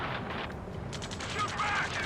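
Rapid gunfire crackles in a combat video game, a dense continuous burst of shots with shouted voices mixed in over the din.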